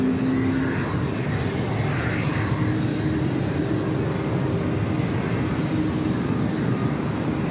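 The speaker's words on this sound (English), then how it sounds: "The Max 8 coming in." Boeing 737 Max 8 airliner coming in to land at Sydney Airport, a steady broad engine roar heard from a distance, holding evenly throughout.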